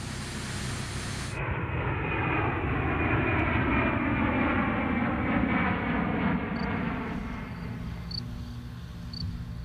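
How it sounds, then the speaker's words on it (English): A giant Airbus Beluga cargo plane, a loud, sustained engine roar with a gradually shifting whine that peaks midway and slowly fades, heard alone without voices. "the European prototype is shipped on board a giant Airbus Beluga cargo plane"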